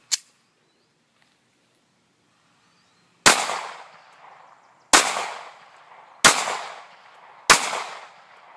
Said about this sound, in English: Stand by for some range footage of this gun being shot.